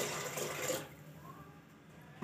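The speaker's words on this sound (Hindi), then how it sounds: "थोड़ा सा इसमें डालूंगी पानी," Water is poured into a cooking pot in a home kitchen while carrot halwa is being made, a close, steady splashing stream that stops abruptly after under a second, leaving a quiet room.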